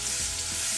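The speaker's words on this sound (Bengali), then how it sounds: "রসুন দিছি, রসুন বাটি" Garlic paste hits hot oil in a pot on a home stove, giving a loud, steady, close-up sizzle that hisses without a break for the whole short moment.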